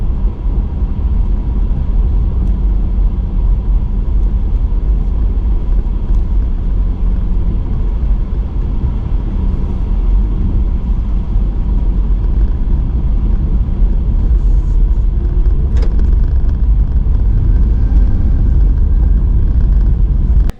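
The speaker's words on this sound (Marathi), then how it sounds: "कामच सुरू आहे बघा गाडी कशी टर्न मारते बघा इकडे" A car drives and turns along a road under construction, with a steady, close, low engine and tyre rumble running throughout and no voices.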